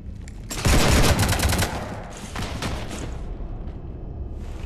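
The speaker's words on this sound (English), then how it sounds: "You want to stop shooting up my ship?" Heavy rapid gunfire rakes a ship in Mass Effect 3 Legendary Edition, a loud dense burst of automatic shots that eases into sustained firing and booming rumble, with no talking.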